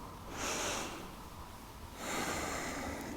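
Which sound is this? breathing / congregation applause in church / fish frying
breathing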